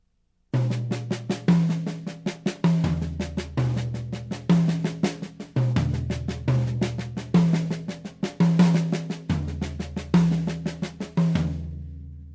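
A syncopated accent pattern moved around a drum set, snare strokes with accents landing on toms of differing pitch, steady and close, no talk.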